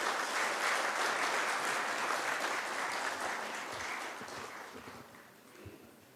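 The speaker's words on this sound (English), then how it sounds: "please join me in a round of big applause for the parents" A large audience at a graduation ceremony gives sustained applause, a dense wash of clapping that holds strong and then gradually fades away.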